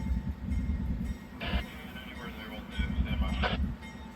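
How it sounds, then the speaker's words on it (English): A Union Pacific railroad locomotive sits on the line, giving a steady low rumble and drone under a voice, with a couple of brief hissing bursts. "looks like the locomotive detached off of 37M."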